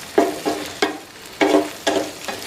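Spatula stirring beaten egg with chopped capsicum and onion in a hot pan, giving a series of scraping strokes over a steady sizzle.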